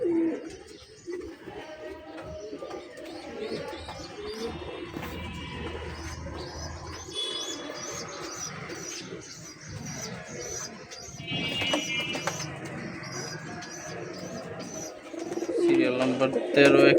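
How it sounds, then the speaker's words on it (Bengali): A pair of army pigeons coo at close range through a busy, noisy room, with soft repeated calls and other bird chirps mixed in. A person talks over the birds for much of the time. "এক পেয়ার আর্মি কবুতর, খুবই ভালো মানের পেয়ারটা"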